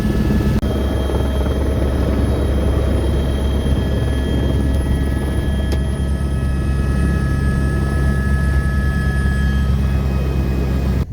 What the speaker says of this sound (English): Let's go jump in the helicopter.